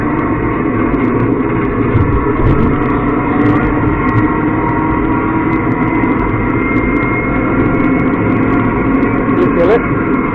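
A new motor on a 2006 WRC rally car kiddie ride runs with a continuous loud electric hum and drone, steady throughout, with faint background noise.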